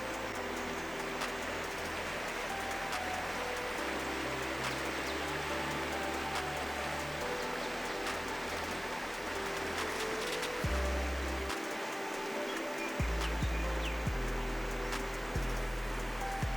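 A fast-moving river in Arrowtown rushes steadily and close by, a dense, continuous wash of churning water with no voices over it.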